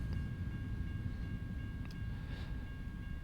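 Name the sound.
passing freight train in American Truck Simulator video game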